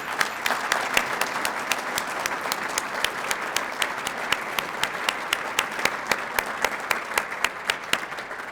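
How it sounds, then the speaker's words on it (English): Steady applause from an audience at a JROTC superintendent's breakfast honoring students, with sharp individual claps standing out over a dense, even wash of clapping throughout, no talking. "We're going to give you a round of applause right now."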